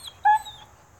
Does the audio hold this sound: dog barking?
yes